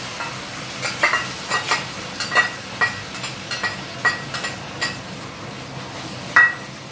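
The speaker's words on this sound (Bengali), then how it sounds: "এবার এটাকে একটুখানি নাড়াচাড়া করবো, টমেটো আর পোস্তটা" Tomato and poppy seed paste is stirred in a pan over a sizzling heat, a steady series of scraping strokes about every half second with a louder scrape near the end, close by and heard alone without talk.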